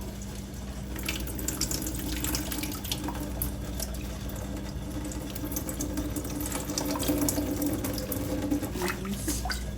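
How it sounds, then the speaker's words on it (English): Water drains and trickles steadily out of a cactus pot as it is tipped, a continuous close splashing flow like a running tap that holds an even level throughout, with no talking. "So this is how much water is in there, so let me drain some of this out."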